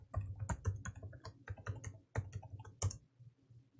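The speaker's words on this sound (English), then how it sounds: "Type in the password." Password being typed on a computer keyboard while connecting to an Ubuntu server over SSH: a quick, uneven run of crisp key clicks, close and fairly quiet, with no talking.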